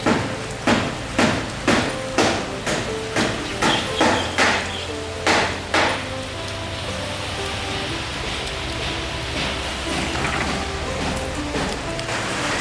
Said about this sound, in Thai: กำลังมีการบูรณะได้ยิน เสียง ตอบโป๊ะโป๊ะโป๊กอยู่